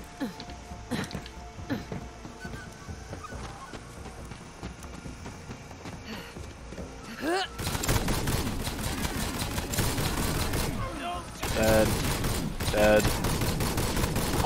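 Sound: big gun firing in Borderlands 3 video game

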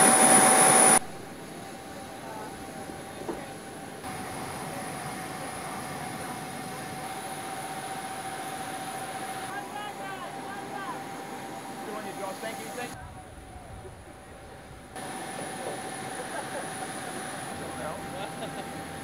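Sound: airliner taxiing to runway

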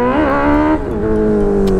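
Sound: motorcycle engine revving

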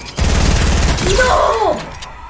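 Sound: gunfire in the video game Fortnite

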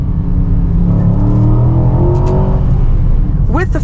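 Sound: Aston Martin DBX downshifting with exhaust pops

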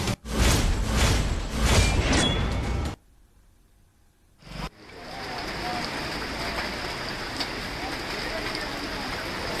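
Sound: heavy rain pouring

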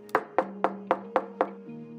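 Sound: knocking on a door in a cartoon

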